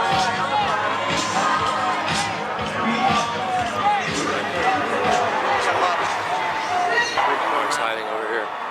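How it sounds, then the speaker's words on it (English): A large crowd murmurs at a campaign rally, a dense, continuous hubbub of many voices with scattered thumps and occasional cheers, while people talk close by. "It's a big crowd."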